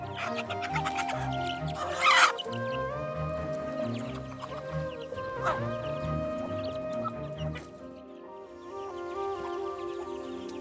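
A village hen that hatched eighteen chicks from twenty eggs clucks softly and steadily while her chicks peep in high, thin chirps all around, close and continuous.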